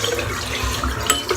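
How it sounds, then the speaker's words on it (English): Water runs steadily from a tap as a Murano glass shaving brush with lingering soap is rinsed beneath it, a close, continuous splashing wash with small surges and no talking. "rinse the brush out, which still got a fair amount of soap in there"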